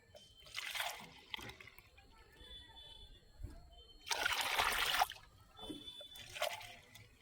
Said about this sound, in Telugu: ఇరవై లీటర్లకి లీటర్న్నర పోస్తున్నాను